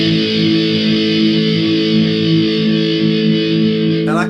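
A single distorted electric guitar chord from a verse, struck once and held to ring out loud and steady for several seconds before a brief scrape at the end, with no voices.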